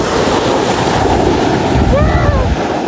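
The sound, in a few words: sea waves on the beach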